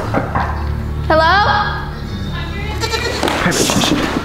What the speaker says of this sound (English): Look at all the goats.